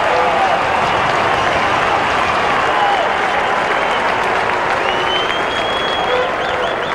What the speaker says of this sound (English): The crowd's happy.